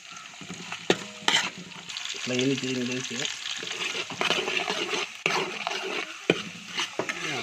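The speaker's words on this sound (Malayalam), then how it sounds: "സവാള പെട്ടെന്ന് മൊരിയാൻ വേണ്ടി നമുക്ക് ഉപ്പ് ചേർക്കാം." Onions and crushed shallots fry with salt in a pan for a Kerala toddy-shop catfish head curry, a steady sizzle broken by spoon scrapes and clinks, with a brief low rhythmic buzz partway through.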